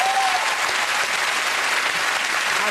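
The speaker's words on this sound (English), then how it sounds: "That's worth a round of applause." Studio audience applause on a comedy news show, a loud, continuous wash of clapping held steady throughout with no gaps.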